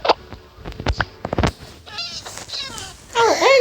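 A cat in a video game meows and yowls in a few short, close, strained cries, ending in a longer wavering caterwaul.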